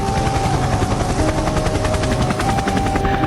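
Steady, loud whirring of a private helicopter's rotor fills the stretch without pause, a continuous mechanical chop with no voices over it.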